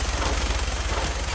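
Rapid, dense gunfire from a minigun in Fallout 4 rattles on without a break for the whole moment. It is loud and continuous, with a heavy low thump under a harsh, noisy roar.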